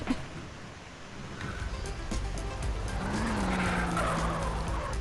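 Race cars in GTA San Andreas roar past with squealing, skidding tires, engine noise building and staying loud and steady after a quieter opening.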